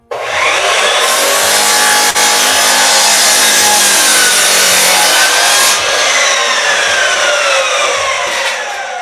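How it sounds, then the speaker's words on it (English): A miter saw cuts through a wooden shelf board in one continuous, loud, high-pitched whine of the blade biting wood. It lasts about nine seconds with no voices. "I'm going to make a miter saw cut."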